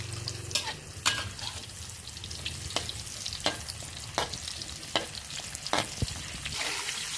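Buffalo skin frying in a hot pan over medium heat, a steady close sizzle broken by repeated sharp crackles and pops, with occasional stirring scrapes and no talk.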